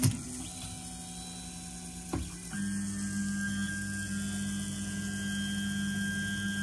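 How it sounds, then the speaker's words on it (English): A 3D printer heating up and starting to move, giving a steady electric motor whine with sustained tonal hums, a brief clatter near the start, then a constant drone that holds at even loudness to the end; no talking. "Printer's doing something funny."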